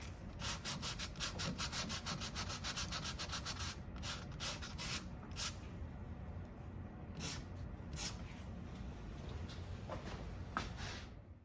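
Hand sanding with gentle strokes takes a thin layer of urethane finish off a wooden mid-century modern coffee table, a steady rasping scrape with rhythmic pulses, close and fairly quiet, with no talking.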